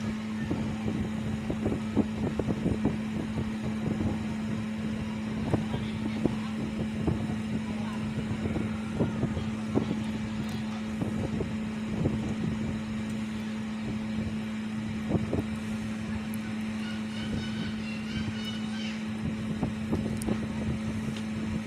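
A sewing machine stitching fabric for a baby shalwar kameez gives a steady close motor hum with faint clicking that runs without pause.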